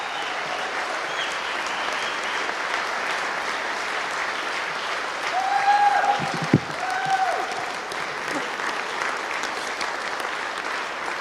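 Audience applause at a North Dakota 164th Infantry World War II victory celebration, a steady sustained clapping from a crowd lasting the whole stretch, briefly swelling in the middle with a sharp knock.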